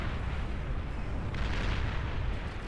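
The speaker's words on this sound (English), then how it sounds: "Rocket bots absolutely decimating the defensive structures." Rocket bots pounding defensive structures in the real-time strategy game Beyond All Reason, a dense rumbling barrage of overlapping explosions and artillery-like booms, continuous and heavy throughout.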